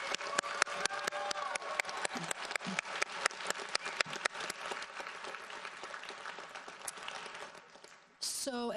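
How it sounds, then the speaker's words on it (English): A graduation audience claps for speakers and students at a 2019 School on Wheels ceremony, with dense, sustained applause and sharp individual claps that thin out and fade near the end before a voice cuts in. "Can we get another round of applause for our speakers and our students?"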